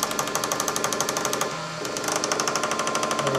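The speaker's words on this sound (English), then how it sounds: "up here we have a carriage that moves along a screw that's controlled by another stepper motor right here" A stepper motor drives a carriage along a lead screw in a scanner, giving a rapid, even mechanical chatter with a buzzy pulsing rhythm, close and loud, that briefly drops out midway before resuming.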